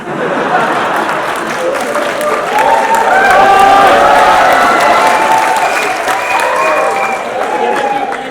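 An audience in a hall at a political speech gathering applauds, with sustained, dense clapping that swells slightly in the middle and keeps going throughout.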